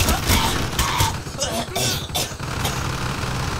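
LMG fire in Black Ops 1, a dense, loud rattle of bursts with short gaps, mixed with engine-like rumble and other battle noise.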